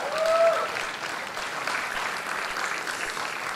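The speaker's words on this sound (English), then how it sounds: "please give them another round of applause" Wedding guests at a walima celebration at the Hilton London Bankside give a round of applause, a broad wash of clapping that swells early and then holds steady through the clip.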